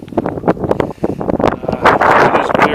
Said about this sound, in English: It is very windy, so if there's a lot of wind noise out here, I apologize